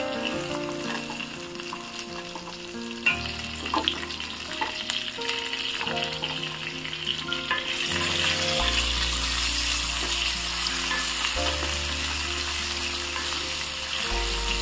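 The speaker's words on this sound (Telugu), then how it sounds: "ఇవి తీసుకుని దీంట్లో జీలకర్ర ఆవాలు మెంతులు పచ్చిమిర్చి ఎండుమిర్చి వేసి ఫ్రై చేస్తా ఉన్నాను" Cumin, mustard seeds, fenugreek and green and dried red chillies fry in hot oil for okra chutney, sizzling and crackling continuously and close, growing louder as stirring goes on.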